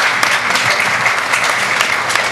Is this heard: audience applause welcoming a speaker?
yes